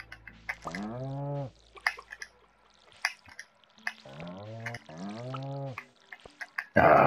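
Watering crops in the video game Stardew Valley: short game splashes and pours stand out among melodic tones in the game's music, with a final louder splash at the end.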